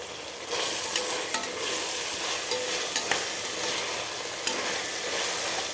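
Spices with a light pinch of turmeric fry for biryani, giving a loud, continuous sizzle and hiss with occasional scraping stirs in the pan, close up and without speech.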